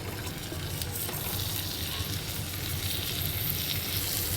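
Boiled chicken pieces hitting hot frying masala in a pan for butter chicken, giving a continuous bright sizzle that stays even and close throughout, with no voices.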